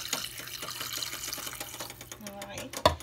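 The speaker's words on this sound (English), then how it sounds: "Add some water to it." Water is poured into a pot of veggie chunks mixed with all-purpose, meat and chicken seasoning, a soft trickling splash at low level with light clatter, ending in a sharp knock.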